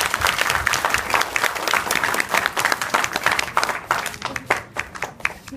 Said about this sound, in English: Everybody, please give a huge round of applause.